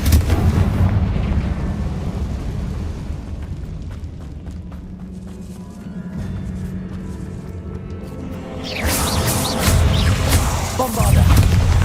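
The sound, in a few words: Confringo blasting spell explosions in Hogwarts Legacy video game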